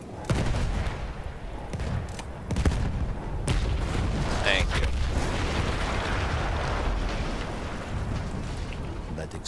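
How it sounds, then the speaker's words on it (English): A Battlefield 1 explosion sets off a dense, roaring wash of rumbling blast and battle noise that stays loud and close throughout, with a brief spoken voice over it. "That explosion was one of the sweetest sights of the war for me."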